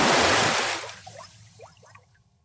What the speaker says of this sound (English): it had come loose, plummeting into the sparkling waters below with a loud splash